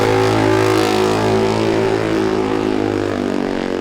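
A racing motorcycle at the Classic TT, restarted with mechanical help, drones loudly and close with a steady, slightly rising engine note as it pulls away, no voices heard.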